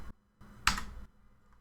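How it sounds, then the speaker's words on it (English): Computer keyboard keys pressed on a Windows 11 PC, Control then F5: a couple of soft taps followed by one sharper, louder click, close up and alone. "hold down the Control key and then press F5 key on your keyboard"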